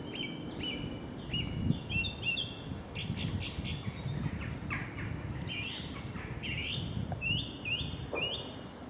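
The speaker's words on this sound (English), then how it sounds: "As that song thrush, I believe it is, will confirm." A song thrush sings outdoors, repeating short, clear whistled phrases one after another over a steady low background rumble.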